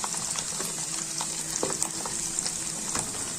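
Garlic and tamarind frying in oil for a homemade garlic pickle, a steady close sizzle and crackle with light stirring scrapes, no voices.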